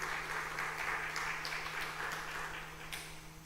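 A church congregation at a Korean worship service claps together in praise, a steady mid-level round of applause that gradually fades toward the end over a faint constant hum.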